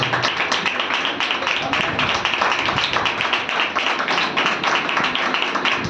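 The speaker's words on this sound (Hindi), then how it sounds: "आप लोग तालियों को बजाते रहे जब तक वो आ नहीं जाते" A church congregation at a Sunday service claps steadily and densely for the full stretch, a loud, continuous patter of many hands with no clear pauses.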